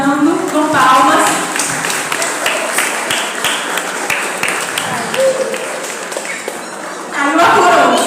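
An audience claps steadily, welcoming a child dressed as the boy king at a Bible-themed children's presentation, a loud close wash of palms, with voices heard speaking through it and a swell at the end.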